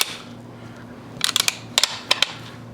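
The action of a non-restricted firearm being worked by hand gives a few crisp metallic clicks and clacks in small clusters against a quiet background. The sounds are close and sharp.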